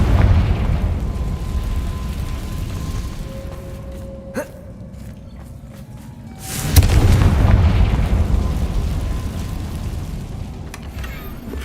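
Spell explosions from Confringo in the Hogwarts Legacy video game, heard as booming blasts over a dense rumbling game soundscape, with a brief quiet gap and a sharp burst before the roar swells again.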